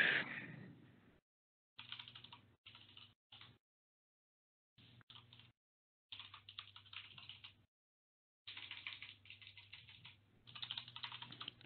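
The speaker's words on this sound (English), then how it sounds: "I hate typing stuff in wrong" Quiet clicking on a computer keyboard in bursts of rapid keystrokes separated by short pauses, close and alone with no voices.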